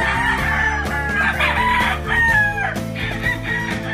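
Gamefowl roosters in transit crow and cluck over each other, several close, loud birds calling one after another with overlapping, drawn-out crows and no talk.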